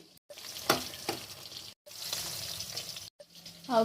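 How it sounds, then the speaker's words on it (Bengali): Small carp fish and flat beans fry in a village kitchen, giving a steady, moderately loud hiss broken by short gaps and a few sharp scraping or stirring knocks. "চারাপোনা ভাজা হচ্ছে, আর শিম ভাজাও বসিয়ে দিয়েছি"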